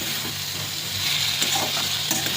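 Dried shrimp being stirred with ash gourd in a frying pan, a steady close sizzle and hiss of frying with soft scraping strokes of the spoon against the pan, no talking.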